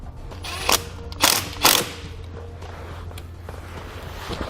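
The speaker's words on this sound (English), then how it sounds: "We're going to attach that to that stud and then reinstall the nut." A ratchet wrench with a 10mm socket turns a nut back onto a ring terminal stud while a 12 volt outlet kit is fitted to a 2015 Lincoln MKX. A few sharp clicking bursts sound up close, separated by quieter handling noise.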